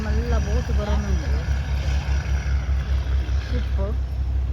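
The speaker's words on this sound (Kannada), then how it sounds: "ಮಲ್ಲ ಬೋಟ್ ಬರೋಣುಂಡು" A big boat approaches on coastal water, its engine a steady, loud low throb with a regular pulsing beat throughout, while people talk over it.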